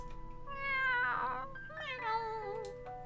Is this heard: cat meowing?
yes